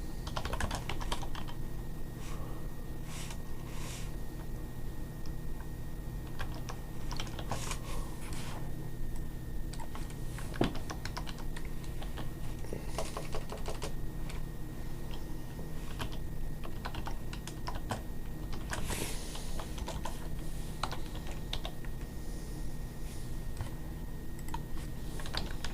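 Computer keyboard typing, a steady run of close, fast key clicks with occasional heavier taps, continuing alone without talk throughout.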